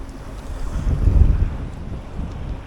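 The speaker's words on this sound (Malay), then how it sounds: "Angin padu amat geng." Strong wind blasts across open water during kayak fishing, buffeting the microphone with a low, rumbling roar that swells loudly midway and then eases.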